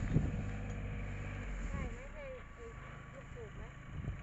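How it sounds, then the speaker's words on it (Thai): A running engine with loud piston noise drones steadily at close range, a continuous rough rumble with wind buffeting the microphone and a voice over it. "เสียงลูกสูบมันดังเนาะ"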